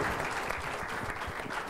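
An audience applauds a speaker at an interview event, a dense steady patter of clapping from many hands that carries on evenly throughout.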